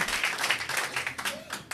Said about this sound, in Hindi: जोरदार तालियां यीशु मसीह के लिए